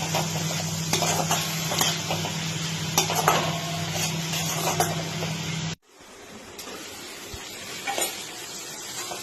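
Crushed ginger and green chili frying in a pan, with a steady sizzle, clinks of a spatula against metal and stirring scrapes; a brief dropout, then quieter sizzling resumes.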